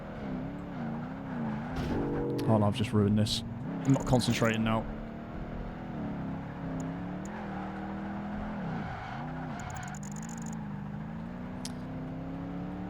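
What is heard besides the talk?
SUV racing car engine in Project Gotham Racing 2 video game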